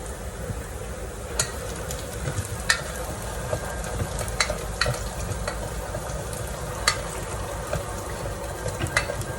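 Garlic and onion sautéing in a pan for beef igado, a steady close sizzle and fry with scattered stirring clicks and scrapes throughout, no talking.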